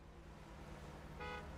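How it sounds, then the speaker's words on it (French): A vehicle horn honks once, a short toot in a video game, set over a low, steady engine rumble with no talking. "Je klaxonne parce que je me dis si jamais il y a des oiseaux"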